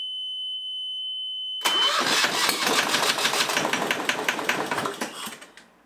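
A Yanmar diesel boat engine cranks and catches after a high electronic warning tone, then runs with a loud, rapid rhythmic knock that gradually slows and fades near the end.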